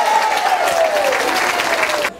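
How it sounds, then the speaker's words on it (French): Audience at a seniors' challenge event breaks into loud, sustained clapping with a faint whistle or cheer, cutting off abruptly near the end. "Donc je vous demande de vous applaudir, vous, tout le monde ici présent."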